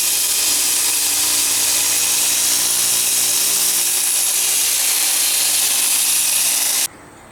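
A belt sander used for fine work on blades runs loud and steady with a bright, hissing abrasive whir, holding constant for several seconds before abruptly cutting off near the end.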